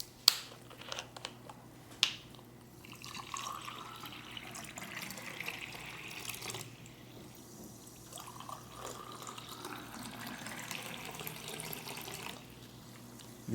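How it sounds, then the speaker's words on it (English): Sparkling water is poured into glasses, giving two sharp clinks at the start, then a steady hiss of liquid filling a glass, a brief pause and a second fizzy pour, quiet and close. "today I'm going to serve you sparkling water"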